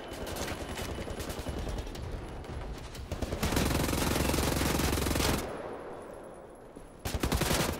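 Dense, continuous automatic gunfire from two dual-wielded guns in Wolfenstein: The New Order, loud and unbroken for several seconds, with a brief drop before another burst.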